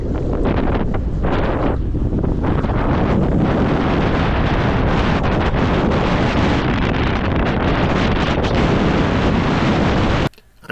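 Strong wind blowing over a sailing boat at anchor in the Whitsundays, a loud, continuous roaring rush buffeting the microphone with surging gusts, cutting off abruptly just before the end.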